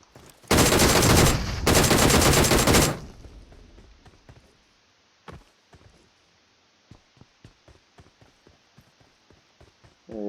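Gunfire in PUBG Mobile: a loud, sustained burst of automatic fire with a brief gap, followed by quieter scattered shots and a string of sharp, evenly spaced clicks or footsteps, with no voices.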